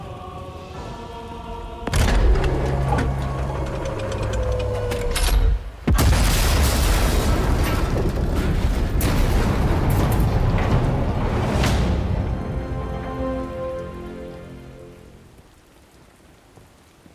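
In Sniper Elite 5, scuttle charges detonate and destroy a large gun: a sudden heavy boom followed by a long rumbling, crackling roar of debris and fire, then a second blast, fading slowly toward the end.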